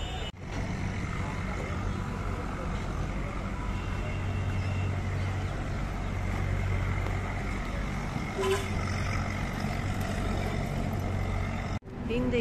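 A crowded bus station in India filled with buses, a steady low rumble of idling engines with occasional horn toots and a sharp clatter near the end, with people talking in the background.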